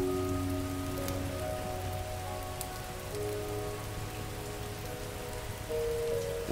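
Rain in the video game Spirit City Lofi Sessions falls as a steady, soft hiss of drops, with gentle sustained lofi tones running underneath.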